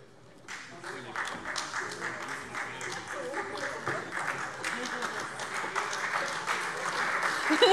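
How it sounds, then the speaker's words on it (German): Applause spreads through a German state parliament plenary session, steady broadband clapping that builds gradually over several seconds and grows louder toward the end, with no voice over it. "dass erst Herr Hahn klatscht, dann meine Fraktion"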